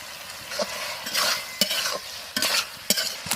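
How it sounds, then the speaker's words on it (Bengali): Desi country chicken frying in a kadai with village spices, giving a close, steady sizzle broken by sharp scrapes of a ladle stirring the meat every second or so. "কড়াইয়ে মাংস দিব, হেভি সেন উঠছে যে"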